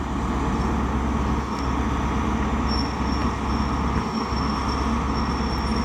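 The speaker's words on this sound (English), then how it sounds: "we got one train arriving and one train departing" Great Western Railway train pulling into Reading station, a steady loud low rumble of engine and wheels close by, holding level throughout with faint high squeal from the rails.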